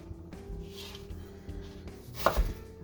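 Knife chopping an onion on a cutting board for broth, soft repeated cuts in a quiet kitchen with one sharper knock near the end.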